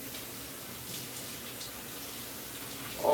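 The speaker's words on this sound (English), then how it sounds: "Rinse off my hands." Tap water running steadily and softly as hands are rinsed at a kitchen sink, with a brief louder splash at the very end.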